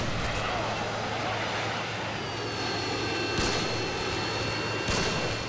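A Harrier jet killstreak in Modern Warfare 2 roars overhead as a continuous loud engine drone, with two sharp distant blasts near the end and a player talking underneath.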